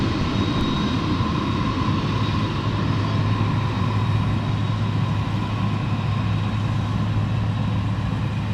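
A Delta Boeing 767 airliner at MSP airport in winter produces a steady, loud engine roar with a constant whine and no talk.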